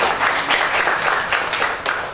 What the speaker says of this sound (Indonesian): Dan tepuk tangan dulu dong buat Anda semuanya.